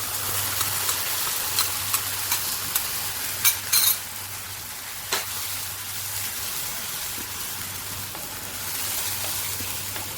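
Chicken simmers and sizzles steadily in a pan after an orange juice and sugar mixture goes in for orange dry chicken. A few sharp spoon clicks sound near the start, and there is no talk.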